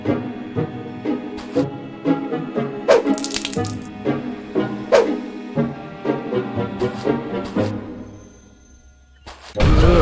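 Running tap water in a video game set in a house during a robbery, a steady wash of flowing water with clattering knocks and short bursts, ending in a brief quieter gap before a loud burst.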